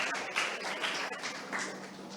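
Audience applause at the Merton Tamil School cultural programme for Tamil New Year 2025: a steady, fairly quiet wash of many hands clapping together for a couple of seconds, with no voices over it.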